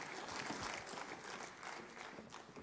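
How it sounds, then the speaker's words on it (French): Audience applause at a Guadeloupe sports awards ceremony, a steady dense wash of clapping held at even level throughout, heard from within the hall. "toujours sous vos applaudissements."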